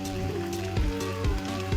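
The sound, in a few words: heavy rain falling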